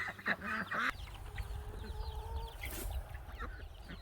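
Backyard chickens cluck and chatter softly while waiting for food, with a few brief squawks near the start and a low, steady rustle underneath.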